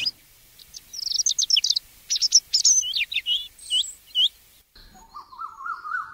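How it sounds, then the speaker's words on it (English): Birds chirp in a forest: quick bright tweets and short warbling phrases come in busy bursts, close and clear, followed by a lower, longer trilling call in an otherwise quiet setting. "birds."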